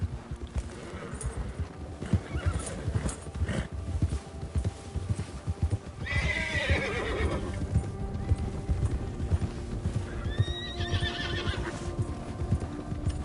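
A horse gallops with rapid, rhythmic hoofbeats in Red Dead Redemption 2, loud and near, with a whinny and bursts of other game sounds over the running.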